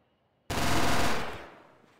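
A single burst of automatic gunfire from Jagged Alliance 2 erupts loud and close after a brief silence, then trails off into a decaying echo.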